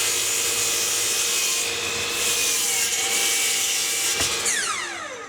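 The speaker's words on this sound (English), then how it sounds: "So I'm going to do that on my table saw." A table saw cuts through wood with a loud, steady whining hum at close range, the blade tone shifting as the cut finishes and the motor begins to spin down.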